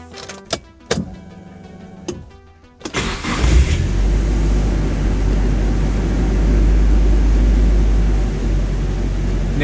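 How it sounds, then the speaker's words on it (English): A Nissan S15 Silvia 200SX with a newly installed aftermarket airbox: a few clicks and a short starter crank, then the engine catches and settles into a steady, even idle that continues to the end. "I'm going to start the car and I'm going to check if there's any irregular idle."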